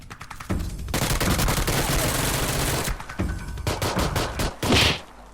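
Gunfire in PUBG Lite comes in loud, dense bursts of rapid automatic shots, with a short break and then a final volley.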